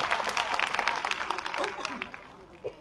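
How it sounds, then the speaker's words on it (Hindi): Applause welcomes award recipients at a government ceremony in Lucknow, with dense clapping filling the hall under a speaking voice and fading slightly toward the end. "एक बार जोरदार तालियों के साथ स्वागत"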